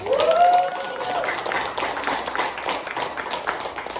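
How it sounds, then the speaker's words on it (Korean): Audience clapping for trainees at a workplace mission college lecture in a city hall, a steady wash of hands with a voice briefly heard over the start. "우리 훈련생들만을 위해서 뜨겁게 한번 박수 한번 하겠습니다."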